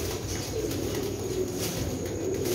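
Pigeons coo softly and steadily, a low continuous murmur with faint chirps over a constant background hum, no talking.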